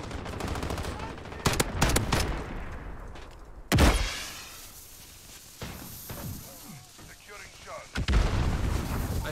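Explosions and gunfire ring out in the video game Call of Duty: Modern Warfare, including a grenade blast, with sharp loud booms and bursts of shots scattered across the stretch and game sounds and voices in between.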